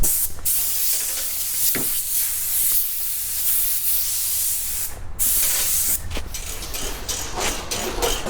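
Loud steady hiss of a compressed-air blower clearing debris off a 46-inch deck of a Husqvarna YTH22V46 riding mower in a shop, continuous with a brief break and short bursts near the end.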